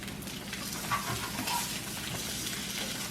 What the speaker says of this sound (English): Now I'm going to flip these eggs back over because I want them to cook a little bit more.